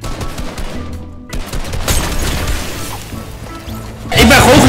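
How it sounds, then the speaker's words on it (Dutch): Bursts of Fortnite gunfire crack and rattle, some distant and some loud and close, with a louder burst near the end. "Waar komen die schoten nou vandaan?"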